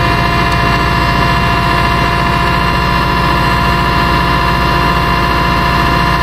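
A sand hog engine idles steadily after a cold start at full 85 PSI, a loud, constant low rumble with a dense mechanical drone that holds without a break.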